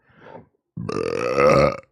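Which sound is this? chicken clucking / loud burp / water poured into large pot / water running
loud burp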